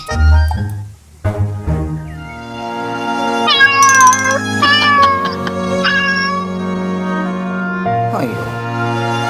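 A cat meows loudly and repeatedly up close, drawn-out cries rising and falling, with a voice speaking around them.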